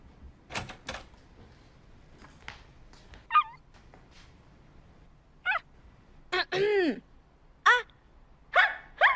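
A woman imitates a dog, letting out short, scattered barking and whimpering yelps that come in bursts, some close together, with quiet pauses between them.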